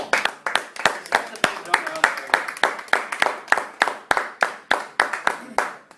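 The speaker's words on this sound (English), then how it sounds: "give these guys a round of applause for just their dedication" A small gathering claps steadily in applause, a dense, even patter of handclaps, close and fairly loud, with a voice speaking under it.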